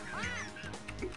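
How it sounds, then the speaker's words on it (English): Spaz, the rabbit in the Jazz Jackrabbit 2 video game, lets out a quick pair of croaky, quack-like burps. They are close and moderately loud, with a short third grunt after them. "He's just burping away."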